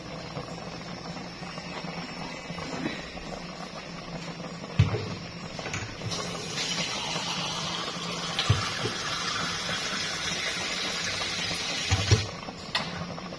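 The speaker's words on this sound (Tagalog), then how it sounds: "Lalagyan ulit natin siya ng sabaw, ng konting tubig." Water streams steadily into a pot of pinangat cooking on the stove, a continuous close pouring and bubbling wash with a few soft knocks, no voices.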